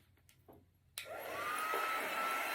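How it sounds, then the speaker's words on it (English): An unheated air dryer blowing to dry chalk on a reusable transfer, switched on with a click and then holding a steady loud whooshing hum, close by, with faint taps before it starts. "So this is just an air dryer."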